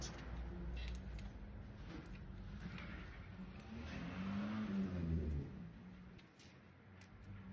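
Car engine revving and passing at moderate distance on a residential street in Sicily, a steady hum that swells near the middle and then fades, with no talk.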